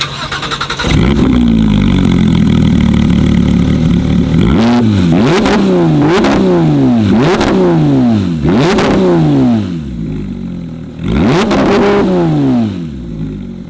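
A Porsche GT3 RS fitted with a race exhaust starts up and idles loudly, then is revved hard in a string of sharp blips with quick drops between them, close and alone.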